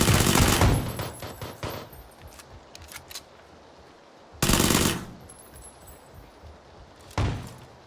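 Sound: gunfire in the video game PUBG

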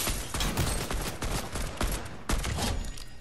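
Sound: gunfire in the video game Fortnite

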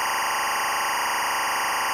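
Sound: linear timecode (LTC) audio signal from Tentacle Sync

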